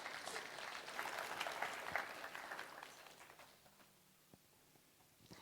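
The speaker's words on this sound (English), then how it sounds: "Let's give her a clap as well." Church congregation clapping at a Sunday service in Croydon, a dense burst of applause that swells and then fades to a few scattered claps over about five seconds.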